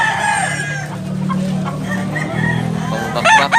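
Fighting roosters on a farm in Tabunok, Cebu, crow and cluck loudly and close by, with overlapping calls filling the whole stretch.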